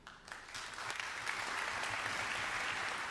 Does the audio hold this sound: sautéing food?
no